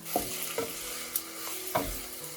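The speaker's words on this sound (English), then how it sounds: "we are going to cook the onions till it turns slightly brownish in color" Sliced onions with a spoonful of sugar fry in a pan for a Bengali-style chicken curry, a steady soft sizzle broken by a few sharp scrapes of a spoon stirring through them.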